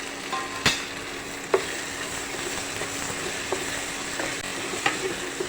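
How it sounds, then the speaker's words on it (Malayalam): Potatoes and onions fry in a pan for an egg mappas dish, giving a continuous close sizzle broken by a few sharp scrapes and clicks from stirring. "ഉരുളക്കിഴങ്ങ് ചേർത്ത് നമുക്കിത് ഇളക്കി കൊടുക്കാം."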